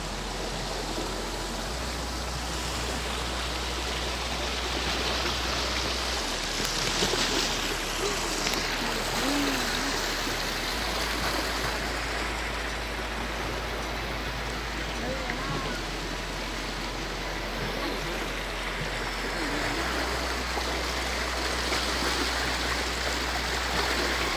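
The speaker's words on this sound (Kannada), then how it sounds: "ಅದು ಪಕ್ಕದಲ್ಲಿ ಹರಿಯುವಂಥ ನೀರೇ ಕುಮಾರಧಾರ ನದಿ ಅಂತ" Kumaradhara river water flows steadily at a busy bathing spot near Kukke Subramanya, a constant broad rushing wash with no break and no voices.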